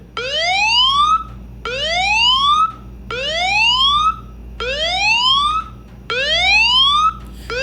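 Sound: mobile phone anti-theft alarm sounding

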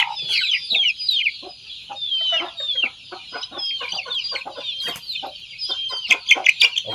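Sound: Bhimavaram chicks clucking

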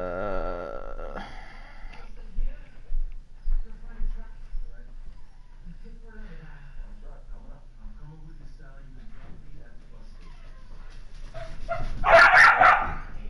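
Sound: dogs barking

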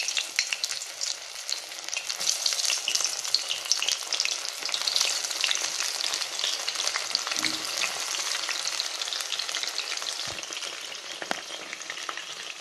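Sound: deep-frying soya chunks in hot oil

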